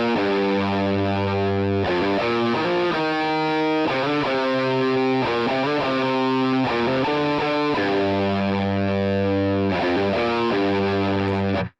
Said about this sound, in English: I think we can do it with a distortion